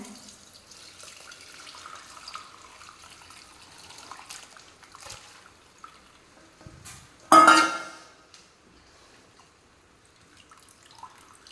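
Whey strained out of curdled, split milk while making rasgulla, a short liquid splash and pour around the middle, otherwise quiet kitchen background with faint clinks.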